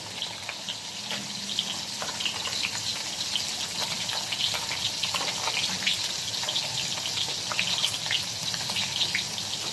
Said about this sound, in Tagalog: Prito isda